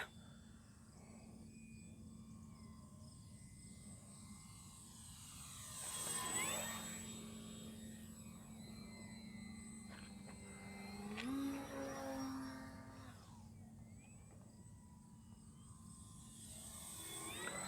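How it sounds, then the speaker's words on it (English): A HobbyZone Carbon Cub S 2 RC airplane with a 1.3 m wingspan flies overhead outdoors, its propeller drone swelling and fading as it makes passes at moderate distance, with no voices. "That is a really pretty plane."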